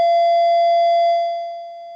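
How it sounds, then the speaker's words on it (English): A school bell rings as one loud, steady electronic tone that holds for over a second and then fades slightly, with no other sound around it. "apparently the school bells are still on"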